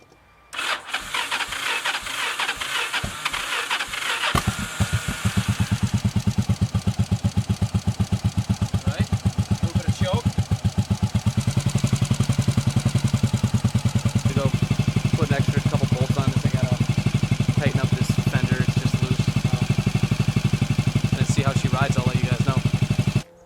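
A Yamaha V Star 1100 motorcycle with a DIY pod filter kit and rejetted carburetors cranks, catches and settles into a loud, steady rumbling idle close by, with the engine note thickening partway through.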